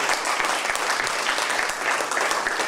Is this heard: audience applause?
yes